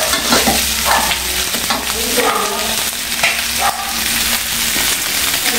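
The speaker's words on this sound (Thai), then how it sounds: "ก็รวนรวนไปเรื่อยๆ" Chicken being stir-fried in a pan for a salty Thai braised chicken dish, giving a steady, loud sizzle with stirring scrapes throughout and no talking.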